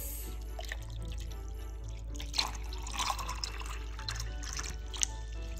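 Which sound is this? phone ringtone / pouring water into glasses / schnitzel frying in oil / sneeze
pouring water into glasses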